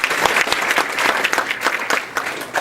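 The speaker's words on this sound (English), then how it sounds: "let's give Mark a quick round of applause for that" A debate audience gives a quick round of applause, dense irregular hand claps from a modest crowd, fairly close and loud, rising and falling briefly over a couple of seconds.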